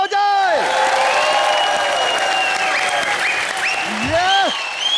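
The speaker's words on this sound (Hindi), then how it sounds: "superstar Sunil sir, Raveena ma'am और सुखविंदर जी के लिए जोरदार तालियां हो जाए" A studio audience at a Colors TV comedy show greets Sunil Shetty, Raveena Tandon and Sukhwinder Singh with loud, sustained applause and cheering, overlaid by sweeping tonal sounds and vocal whoops.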